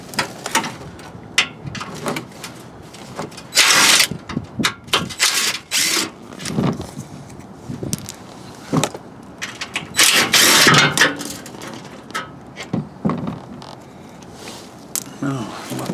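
A power drill whirs in repeated short bursts between pauses, close up, with mechanical rattling and clatter around the bursts, working near the oil filter of a Nissan Frontier engine with an oil leak.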